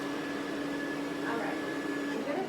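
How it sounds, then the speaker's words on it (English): Rainbow vacuum cleaner running indoors with a steady whining drone and tonal hum, continuous and moderately loud, with someone talking over it. "You can literally vacuum every inch and clean every inch of your house just with this one machine"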